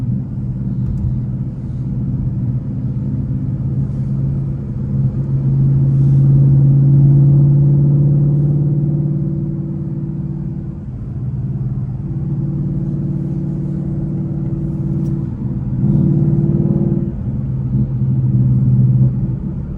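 Deep, steady V8 exhaust rumble from a Ford Mustang Bullitt cruising down a parkway, swelling slightly as it pulls and then settling back, close and continuous with no talking.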